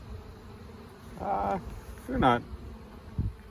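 Bees buzz around a beehive in short, rising bursts of fairly close droning over a faint background hum, with a voice speaking briefly.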